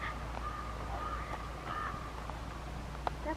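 A crow caws outdoors, several hoarse calls spaced across the moment at moderate distance over a steady background hum.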